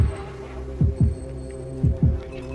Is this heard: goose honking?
no